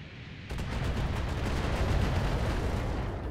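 Mech weapons fire in the BattleTech video game strikes a mech's light armor, making a sustained, dense roaring barrage with faint rapid pulses after a brief quieter opening.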